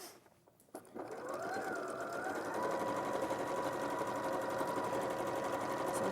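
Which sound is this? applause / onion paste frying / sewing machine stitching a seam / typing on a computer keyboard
sewing machine stitching a seam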